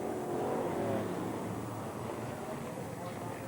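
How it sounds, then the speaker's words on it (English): Race cars roar down a circuit straight, a thick continuous engine drone at moderate distance that swells and fades slightly as they pass, under a commentator's voice. "And quite a few cars already behind them,"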